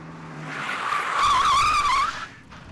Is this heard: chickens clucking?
no